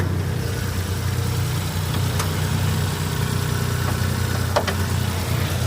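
Chain-driven car engine idling steadily with a low, even hum, close by and alone, with a couple of faint clicks in the background.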